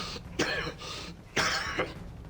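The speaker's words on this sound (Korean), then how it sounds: "지금 누가 기침 소리를 내었어?" Two short, raspy coughs a second apart, fairly quiet and close, with a low background hum.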